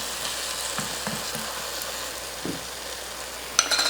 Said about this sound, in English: We're going to stir that through and just allow this to saute and cook